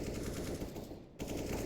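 Rapid automatic gunfire in Counter-Strike: Global Offensive during a pro match, a dense burst of shots that stops briefly and resumes, faint and short.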